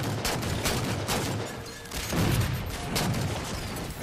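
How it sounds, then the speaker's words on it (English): Rapid assault rifle fire in Halo 4 multiplayer, continuous dense bursts of gunfire with heavy low booms rolling through the whole stretch, loud and close throughout. "how do they shoot so fast? Was that an assault rifle?"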